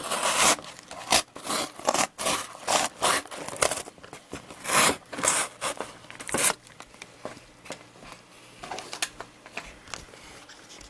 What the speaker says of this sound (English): We're just going to go ahead and cut this open.